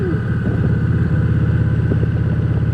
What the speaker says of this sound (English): this bike just throttles up and goes so quickly